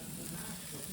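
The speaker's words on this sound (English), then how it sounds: "Oh, that's grilling up nicely." Walleye fillets sizzling on a grill, a soft steady hiss and crackle that stays faint and continuous for a moment, with no talk over it.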